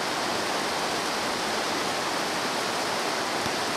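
Creek water rushes steadily over rocks near the Blakely Mine falls, a loud, continuous broadband wash with no pauses.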